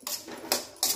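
Dry coconut being stirred and roasted in a pan for Kolhapuri black masala, with three distinct scraping strokes spaced about half a second apart, close and moderately quiet.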